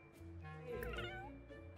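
A video-game cat meows while being petted, one short, close, fairly quiet meow with a rising and falling tone, heard on its own.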